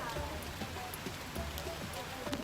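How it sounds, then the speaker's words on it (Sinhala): Rain falling steadily, a soft, fairly quiet patter with scattered drips and taps on nearby surfaces, with faint voices in the background. "අද හොඳට වහිනවා මේ සතියෙම වහිනවා."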